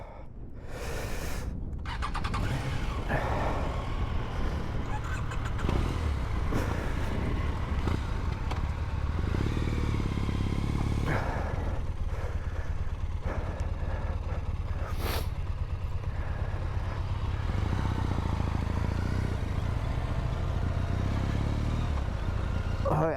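Triumph motorcycles ride along Highland roads from Lochinver to Loch Carron in Scotland, a steady engine drone with wind rush and a few sharp knocks and clatters over the long run.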